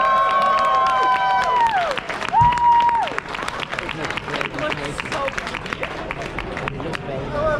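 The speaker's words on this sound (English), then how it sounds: "One more round of applause," Applause and cheering from a crowd at Pro Tour Baltimore, a steady clatter of hands under loud tonal electronic music and general hubbub.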